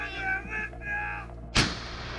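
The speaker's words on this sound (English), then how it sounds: "Intense artillery shells were fired into the forested area." An artillery shell fired into a forested area lands as one sharp, loud blast. It comes just after a brief wavering tonal sound and leaves a lingering rumble behind it.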